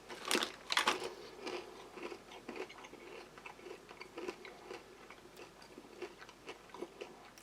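Someone chews crunchy sweet peanuts from a kosher military ready meal, with close, crisp crunches that are loudest at first and then settle into a quieter, irregular rhythm of chewing.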